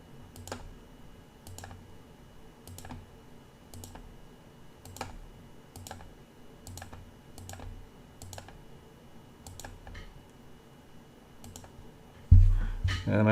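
A computer mouse clicks repeatedly while fret slots are selected in Fusion 360 for a PRS-style guitar neck, roughly a dozen crisp, evenly spaced close clicks, with a louder burst of sound at the very end.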